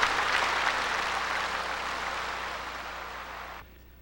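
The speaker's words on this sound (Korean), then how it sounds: "여러분 큰 박수로 격려해 주십시오" A large congregation claps at a Won Buddhist dharma assembly in Seoul in steady, dense, loud applause that fades slightly and then cuts off abruptly near the end, with no talk over it.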